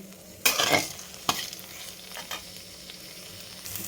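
Ridge gourd and tomato curry stirred in a frying pan, with a few sharp scraping clatters of the spoon over a soft, steady sizzle, close and alone without talk.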